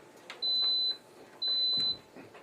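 Two identical high-pitched electronic beeps from a Crock-Pot Express pressure cooker's control panel, each about half a second long, sound about a second apart over faint background noise.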